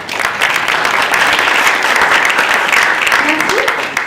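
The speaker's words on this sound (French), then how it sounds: "Je vous demande de l'applaudir." A steady burst of audience applause, dense and loud, sustained for a few seconds before easing slightly.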